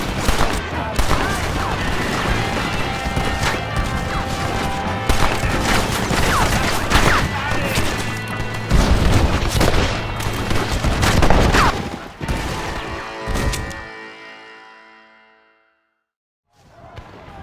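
Dense gunfire in the video game Red Dead Redemption, loud rapid rifle and machine-gun bursts layered with booms and battle din, shouting voices mixed in, then the shooting fades away to near silence at the end.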